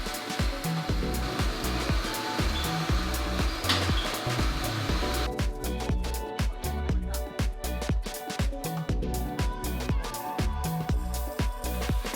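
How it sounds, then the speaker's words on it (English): Compressed air hisses from a wand blown into a wool rug, a steady, close rushing broken by rhythmic pulses as the wand moves in even strokes across the pile. "it's actually blowing out air from the wand"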